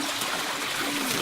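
Fresh spring water from a small generator-driven pump flows steadily in a continuous rushing trickle, close and fairly loud, with no talking.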